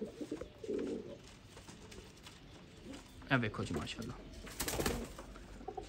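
Pigeons, including Pipal-type birds at a breeder's loft, coo in low, soft bursts near the start, with someone speaking briefly and bird rustles and chirps later, all close and fairly quiet.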